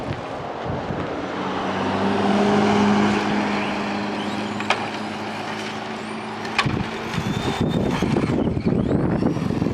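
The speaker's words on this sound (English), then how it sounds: "There's a car coming up." A real car on the road approaches with a rising engine drone and tire roar, peaks close by, then fades as it passes, leaving wind buffeting the microphone and faint clicks.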